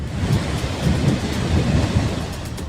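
Heavy monsoon rain pours steadily in the Bundelkhand region of Uttar Pradesh, India, with a low, continuous rumble of thunder underneath; no voices.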